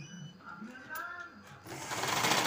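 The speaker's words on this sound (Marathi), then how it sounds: "बघा असं पूर्ण शिवून घेते" Sewing machine stitching a blouse neckline (ghagra blouse), a steady mechanical whir with rhythmic needle clatter that grows louder toward the end, with a voice talking alongside.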